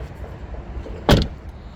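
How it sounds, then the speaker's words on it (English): A rear door on a 2020 Tesla Model 3 slams shut with a single close, loud thump and a short trailing rattle over quiet ambient noise. "I mean, the back doors don't sound great on this at all."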